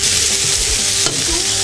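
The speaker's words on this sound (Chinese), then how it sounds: "葱蒜下锅，把肉放进去" Meat sizzles in a wok with scallions and garlic: a steady, loud frying hiss with scraping stir sounds throughout, close up and with no talking.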